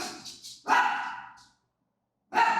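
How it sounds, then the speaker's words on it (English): A pet dog barks indoors, a few quick yips followed by one louder, drawn-out bark that fades away, then another bark after a short silence; fairly near and moderately loud, with no talking. "That's my dog."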